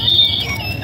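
Chirping toy birds sing at an open-air market in Winchester, a short, high whistling tweet that slides in pitch over a murmur of low background noise.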